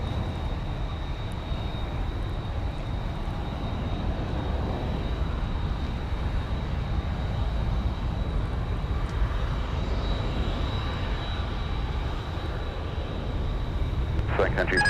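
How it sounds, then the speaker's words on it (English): Delta Airbus A350 heavy jet on short final to runway 30 Left at MSP airport, a steady broadband engine roar held loud and constant throughout, with faint distant radio-style voices underneath. "Delta 120 Heavy is now in sight on short final for runway 30 left."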